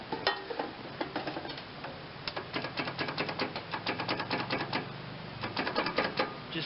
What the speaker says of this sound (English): Just getting a click at the starter.